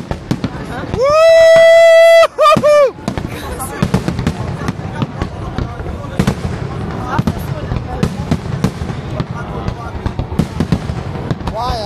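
New Year fireworks burst over Oriente in Lisbon, a rapid run of sharp cracks and booms near and far after a loud whistling, squealing rise, while a crowd chatters and cheers nearby.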